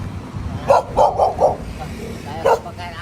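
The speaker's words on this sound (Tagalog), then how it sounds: "Madami mong aso" Several dogs bark in short, sharp bursts, four in quick succession and another a moment later, fairly close, while people talk nearby.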